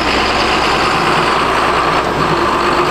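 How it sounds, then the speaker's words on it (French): A loud, steady tractor diesel engine driving a large hydraulic pump drones close by with a constant broadband roar and whine, no voices over it. "Il n'y a qu'un seul moteur avec une grosse pompe hydraulique qui sert à faire bouger le bras"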